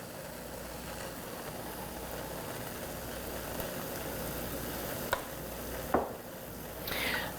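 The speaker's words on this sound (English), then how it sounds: "can you hear it sizzling?" A turkey Reuben sandwich sizzles in a nonstick pan with a steady, even hiss, broken by two sharp clicks near the end and a brief rustle afterward.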